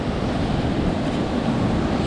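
Strong 70 mph wind roaring past an open window, a dense, steady broadband rush with heavy low buffeting close to the microphone, unbroken for the whole stretch and with no voices.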